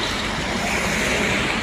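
Dense, steady roar of idling and creeping cars, buses and trucks stuck in a traffic jam at KM 319 on the Sumatra toll road near the Kayu Agung toll gate, close and continuous with no pauses.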